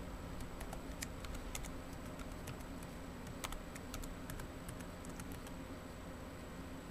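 Quiet, scattered clicks of typing on a computer keyboard under a steady broadband hiss, with a few sharper keystrokes standing out among soft irregular taps.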